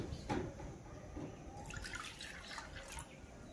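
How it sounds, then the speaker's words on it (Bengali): Water poured into a pan of sugar on a gas stove to make a thin syrup, a faint splash and light trickling sounds close by in a quiet room. "ওই বাটিরই 1 বাটি দিয়ে দেব জল। একটি পাতলা চিনির শিরা তৈরি করে নেব।"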